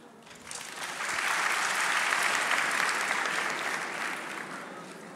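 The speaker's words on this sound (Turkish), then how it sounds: "Hayır diyenler alkışlasın." A studio audience at a Turkish talent show breaks into applause, swelling quickly into dense, sustained clapping that holds steady and then slowly tapers, heard alone without talk.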